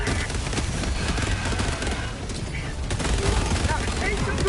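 Grenade blast and dense gunfire in Helldivers 2 roll through a continuous loud barrage of bursts and booms, with voices shouting underneath.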